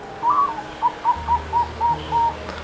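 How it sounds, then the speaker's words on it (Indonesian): A caged bird sings a short series of about seven clear, evenly spaced whistled notes, close and alone over a quiet low hum. "Lalu tak seberapa lama burung di dalamnya pun bunyi."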